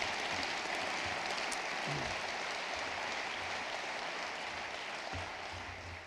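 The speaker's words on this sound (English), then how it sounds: "How about a nice round of applause for all the nominees and the award winners this year?" An audience at an ethics awards event applauds the nominees and winners, a steady wash of clapping heard at a moderate distance, slowly fading near the end.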